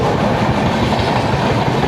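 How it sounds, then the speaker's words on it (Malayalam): The Mangalore Superfast Express rushes past close by, a loud continuous roar of rail wagons with rhythmic clickety-clack of wheels on the track. "അങ്ങനെ മാംഗ്ലൂർ സൂപ്പർ ഫാസ്റ്റ് കടന്നുപോയി"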